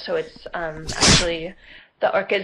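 Someone sneezes loudly once in the middle of a panel talk on biodiversity and green roofs, and a speaker keeps talking before and after it.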